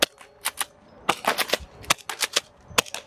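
FABARM STF-12 gas-powered pump-action airsoft shotgun fired several times, sharp loud cracks each followed by the clack of the pump being racked, in quick uneven bursts with no talking.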